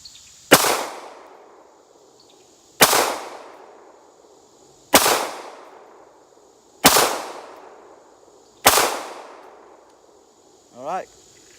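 Five sharp gunshots from a Glock 19 pistol firing FMJ rounds, evenly spaced about two seconds apart, each loud and close with a short ringing decay, followed by a faint mechanical clack.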